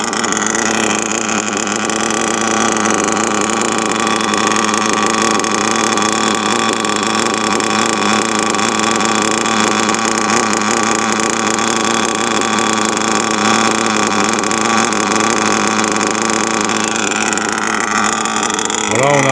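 An ARGUS K3 nitro engine runs in a TLR 8ight Elite RC car, a loud, steady, high-pitched buzzing whine held close and continuous, with no pause for the whole stretch.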